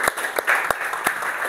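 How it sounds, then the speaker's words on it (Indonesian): A school class claps together, a brief close burst of applause with a few sharper individual claps standing out over the steady patter. "Ya, tepuk tangan untuk kita semua."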